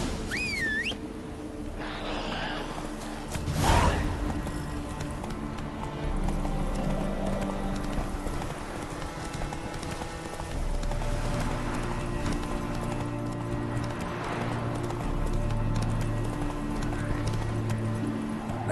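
Geralt's horse Roach gallops in The Witcher 3 video game, steady clip-clop hoofbeats with a brief whinny over a game soundscape, close and continuous.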